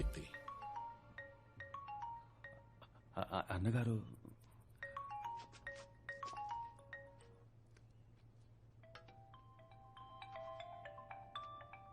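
A phone ringtone plays a repeating electronic melody of bright tones, with a brief louder burst partway through, against a low steady hum.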